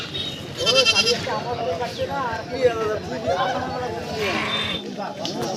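Goats bleat repeatedly at Nishiganj goat market in Bangladesh, their calls rising over a steady background of crowd chatter and people talking nearby.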